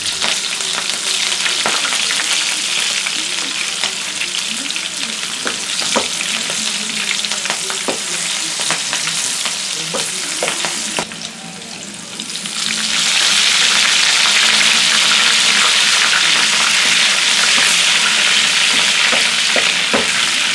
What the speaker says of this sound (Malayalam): ചിക്കൻ ഫ്രൈ ചെയ്ത എണ്ണയിലോട്ട് തന്നെ നമുക്കൊരു അഞ്ചാറ് പച്ചമുളകും അതുമാതിരി കുറച്ച് കറിവേപ്പിലും കൂടി എടുത്തിട്ട് അതും കൂടി ഫ്രൈ ചെയ്തിട്ട്